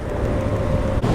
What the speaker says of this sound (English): Cars are having a hard time going around me.